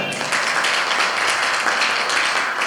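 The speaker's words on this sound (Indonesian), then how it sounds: "Tepuk tangan untuk Anda." An audience at a cultural workshop applauds in a steady, dense wash of clapping that holds at an even level from start to finish, with no voices standing out.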